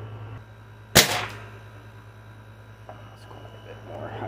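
.177 piston air rifle firing a dieseling shot, one sharp loud crack with a short ringing tail, close, against a steady low hum and faint background sounds.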